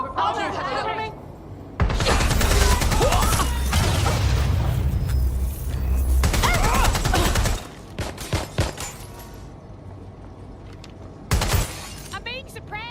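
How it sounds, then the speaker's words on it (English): Suppressive gunfire in Watch Dogs Legion comes as a long, loud, dense burst of rapid shots with shattering impacts, then falls quiet before a short second volley. Voices talk around it. "Providing suppressive fire!"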